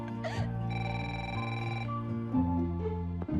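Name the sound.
telephone ringing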